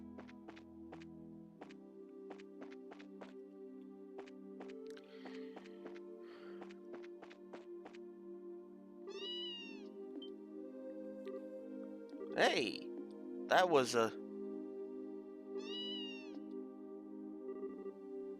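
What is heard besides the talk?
cat meowing in video game Trails in the Sky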